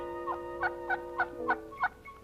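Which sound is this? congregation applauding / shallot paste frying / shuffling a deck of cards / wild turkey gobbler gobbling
wild turkey gobbler gobbling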